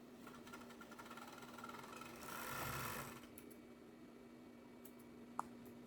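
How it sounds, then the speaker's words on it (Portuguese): An overlock serger sews a T-shirt seam, its steady motor whir running throughout and swelling briefly in the middle, with a single sharp click near the end. "Pega aqui, ó, a ponta e vai no overlock simples, tá?"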